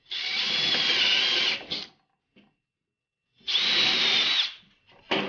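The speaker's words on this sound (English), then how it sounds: "I'll drill just about halfway through the wood to make sure we have good grip" A power drill whines into wood in two sustained bursts, each about a second or more, separated by a short quiet pause; close and loud.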